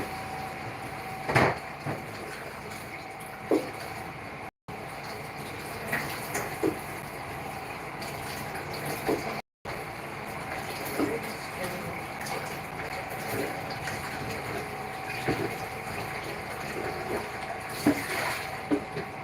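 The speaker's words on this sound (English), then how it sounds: "So I'm going to rinse this and repeat the process again." Fruit is rinsed under running tap water after a baking-soda wash. A steady stream of water runs with occasional splashes and handling clatter, and a voice talks at times.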